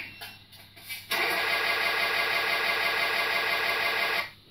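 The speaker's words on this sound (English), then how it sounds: "So here you'll hear the sound and the horn." Engine start sound effect from a ready-to-run radio control hydraulic excavator, with a few faint clicks, then a loud sudden cranking start that settles into a steady droning idle before cutting off.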